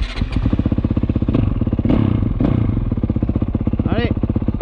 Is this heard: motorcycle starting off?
yes